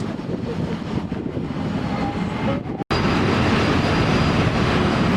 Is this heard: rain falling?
no